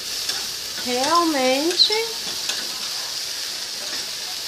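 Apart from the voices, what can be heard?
okra frying and being stirred in a pan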